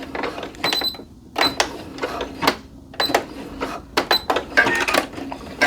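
Sewing machine back stitching on joggers, close and loud, with short bursts of rapid needle clatter separated by brief pauses and clicks as the stitch direction changes.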